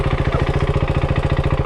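A KTM RC 390 motorcycle engine idles close by, loud and steady, with an even, rapid pulsing throb and no voices over it.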